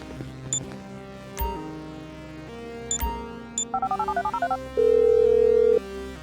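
A mobile phone rings in the video game GTA V: a quick run of electronic chirping beeps, then a steady held tone, over the game's background sounds with occasional sharp clicks.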